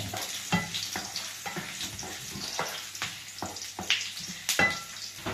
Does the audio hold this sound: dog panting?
no